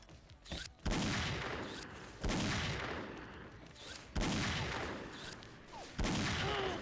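Gunshots in the video game XSHOT, four heavy booming blasts spaced roughly two seconds apart, each with a long rumbling tail and a faint thinner shot before the first.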